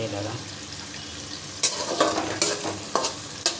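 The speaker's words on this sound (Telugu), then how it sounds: "ఉల్లిపాయలు వేగుతున్నాయి ఫ్రెండ్స్" Onions frying in a pan for chicken pulusu, a low sizzle under scraping stirs, with several sharp clatters of a spoon against the pan in the second half, close and without talk.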